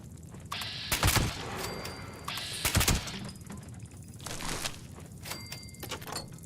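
Handmade rifle fire in Fallout 76, loud bursts of rapid gunshots in a few clusters, with mechanical clicks and game ambience between volleys.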